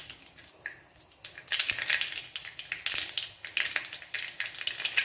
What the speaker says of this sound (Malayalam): കുറച്ച് കടുക് പൊട്ടി തുടങ്ങിയിട്ടുണ്ട്, കുറച്ച് കടലപ്പരിപ്പ് ചേർക്കും